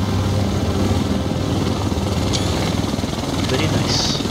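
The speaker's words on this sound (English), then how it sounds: "The rest of us should be in this chopper." Helicopter flying in The Division video game, a loud, steady rotor-and-engine rumble filling the whole stretch, with voices in the mix.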